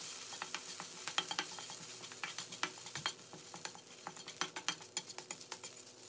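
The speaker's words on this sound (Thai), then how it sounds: "ให้เราผัดกะปิกับกระเทียมให้เข้ากันนะครับผัดให้กะปิของเราสุกหอมเหมือนกันนะครับ" Shrimp paste and garlic stir-fried in a pan, a utensil scraping and tapping in a steady quick rhythm over a soft sizzle, close and without talk.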